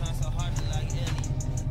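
A Dodge Challenger engine revs through a paddle-shifter upshift, giving a steady, loud low rumble with faint higher whine and clicks above it throughout.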